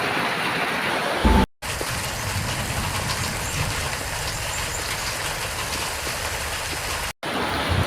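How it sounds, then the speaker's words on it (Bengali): Heavy afternoon downpour pours in a dense, steady hiss, loud and continuous, with two abrupt brief dropouts. "এই মুষলধারে বৃষ্টি ভেজা বিকেলটা আমি উপভোগ করেছি ঠিকই"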